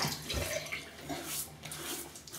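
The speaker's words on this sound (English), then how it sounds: "let's wet the face" Water splashes and drips close by as hands wet the face before shaving at a sink, a steady, soft wash of splashing with a few sharper drops.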